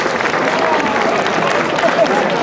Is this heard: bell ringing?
no